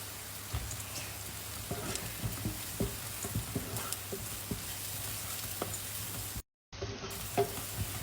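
Flour frying with onion and garlic in a pan as the base for a béchamel, giving a steady close sizzle with scattered scraping stir sounds throughout and one brief drop-out near the end.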